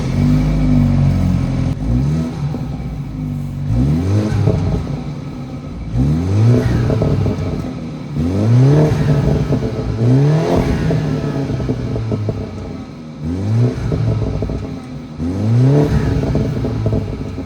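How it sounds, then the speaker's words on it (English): A BMW 330i with B46/B48 engine revs repeatedly in a regular rhythm, each rise and fall ending with a few exhaust burbles, loud and close. "let me rev the car and see what it sounds like now."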